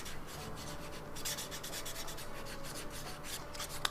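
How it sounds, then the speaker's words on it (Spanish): Sandpaper rasping steadily while working on a Coptic-stitch notebook binding, a soft continuous scratchy rubbing with faint rhythmic strokes, close and quiet, no voices. "No sé si se alcanza a escuchar un poquito como la lija va raspando."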